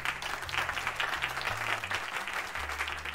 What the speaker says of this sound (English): Let's get one more round of applause for our guest here.